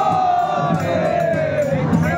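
A festive crowd roars with cheers at the Shimga (Holi) celebration in Shrivardhan, devotees gathered around the deity Bhairavnath's procession, with a steady dense wash of voices and a sustained gliding tone riding above it throughout.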